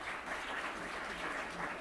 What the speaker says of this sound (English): I address these applause not to me, but to them, of course.